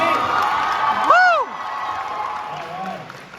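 A convention Q&A panel crowd claps and cheers, with a couple of loud rising whoops cutting through the middle before the noise settles into a steadier murmur of applause and voices.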